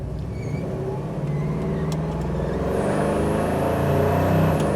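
A 1973 Plymouth Satellite Sebring Plus cruises in third gear at about 70 mph, a steady low engine and road rumble building slightly in loudness, heard from inside the car.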